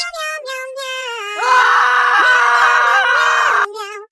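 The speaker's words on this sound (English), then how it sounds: "The demon screams as he starts to vanish." A demon's long, shrill, wavering scream, rising into a harsh, strained peak for a couple of seconds before cutting off as it vanishes, loud and close with no talk.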